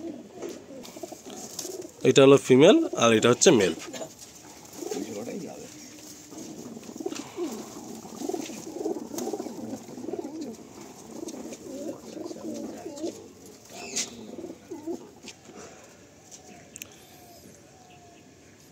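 Pigeons in a loft coo in soft, repeated throaty bursts, close and moderately loud, with someone speaking over and between the calls.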